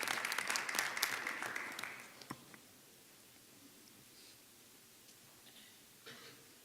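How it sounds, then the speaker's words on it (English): Round of applause from the audience at a school board meeting, a dense burst of clapping for the first two seconds that quickly dies away, followed by quiet room tone with a few scattered claps. "Can you please give these people a round of applause"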